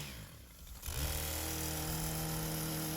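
STIHL KombiSystem power broom sweeping snow: a motor spins up sharply after a quiet moment, then settles into a steady, loud, tonal engine drone with a whirring brush.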